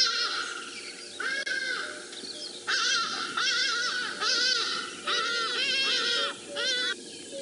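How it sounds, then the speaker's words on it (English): A hadeda ibis gives a run of loud, harsh, nasal calls in several bursts near a nest at a safari reserve, each call rising and falling, with brief pauses between them. "this is what this Hadeda ibis would sound like if she were to call"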